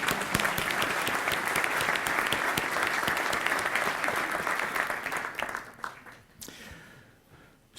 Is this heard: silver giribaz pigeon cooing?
no